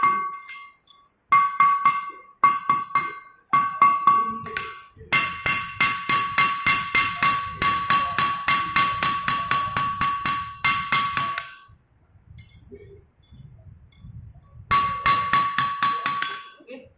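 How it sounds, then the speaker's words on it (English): Rapid, steady hammer blows ring out on a forged metal O-ring, bright clinking strikes in quick succession, pausing briefly before resuming. "you hammer slowly inside till it touches properly"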